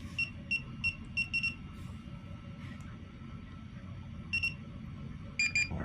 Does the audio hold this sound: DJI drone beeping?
yes